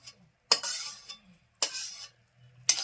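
A spoon is drawn through a thick ladoo mixture of flour, jaggery and ghee in three separate close scraping strokes, each a brief rasping swish followed by near silence.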